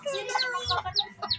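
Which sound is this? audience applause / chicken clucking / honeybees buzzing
chicken clucking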